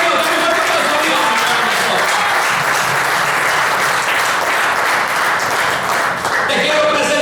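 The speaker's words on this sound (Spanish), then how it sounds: "dame un aplauso a Dios" A church congregation applauds God during a bilingual Spanish-English sermon, sustained dense clapping from a large crowd that stays loud and steady throughout, with a voice faintly underneath.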